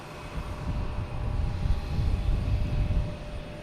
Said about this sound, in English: I think we have United now, clear for takeoff.